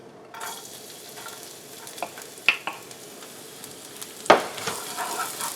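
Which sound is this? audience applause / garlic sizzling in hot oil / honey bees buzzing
garlic sizzling in hot oil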